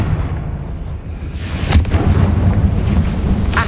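A Confringo blasting spell explodes in Hogwarts Legacy, a loud deep boom with a bright crack that rumbles on and sustains heavy low-end roar for several seconds.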